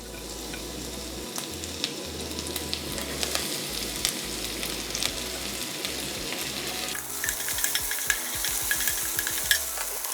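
Green onion stir-fries in two spoons of sesame oil with a steady close sizzle, and a utensil scrapes and stirs through the pan throughout.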